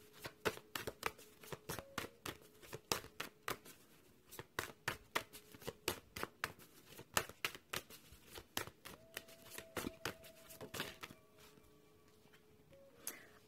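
Playing cards shuffled and snapped down repeatedly for a tarot-style card reading, a dense run of crisp riffling clicks and slaps close to the mic, with no talking and a faint steady tone underneath at times.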